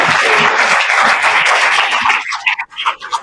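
An audience breaks into loud, dense applause at a public speech in Jamaica, sustained clapping that thins out into a few scattered claps near the end.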